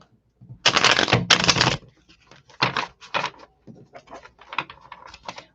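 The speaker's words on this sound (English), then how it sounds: "And one more shuffle again." Tarot cards shuffled close by, with two long dense riffles followed by a looser series of short flicks, slides and taps, no talking.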